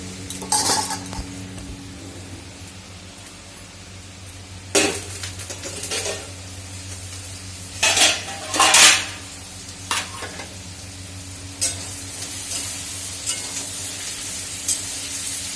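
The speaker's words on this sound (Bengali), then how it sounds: "পটলগুলো ভাজা হোক বেশ।" Pointed gourd (potol) frying in a pan gives a steady soft sizzle, broken by clinks and scrapes of a spatula or spoon stirring against the metal at irregular intervals.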